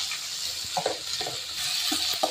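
Onions and tomato frying in a pan while being stirred, a steady close sizzle with scattered scraping and clinking of the spoon against the pan.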